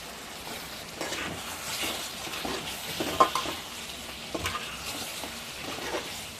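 Chicken curry with chilli powder being stirred in a pan, a continuous sizzle broken by scraping strokes and a few sharp clinks of the spoon against the metal, close up and with no voices.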